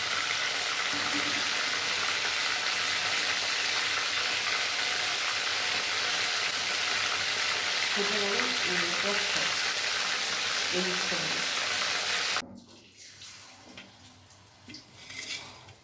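Bombay duck (loitta fish) pakora frying in hot oil, a steady close sizzle with faint utensil clinks, cutting off abruptly near the end, leaving quieter room noise.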